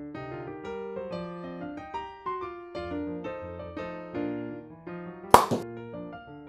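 A single sharp pop as a cork shoots out of a wine bottle heated with a blow torch, sudden and loud over quiet background music.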